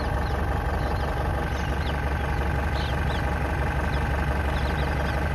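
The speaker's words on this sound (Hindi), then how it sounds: "ये देख लो भाई, यो वाइब्रेशन इस गाड़ी का" A 2002 Mahindra MDI jeep engine idles steadily, a continuous low rumble with a faint rattling knock and vibration, heard close and alone without talk.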